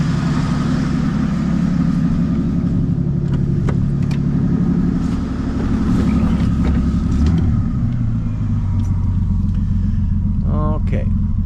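A 1965 Chevy Bel Air engine running close by, a loud steady rumble that refuses to settle down, under bursts of speech.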